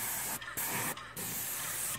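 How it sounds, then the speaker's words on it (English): Paint sprayer spraying paint onto the soffit of a cedar house at an upward angle, a loud steady hiss in three long bursts separated by brief pauses. "I like to spray up on an angle where it comes in so I can get all them nooks and crannies."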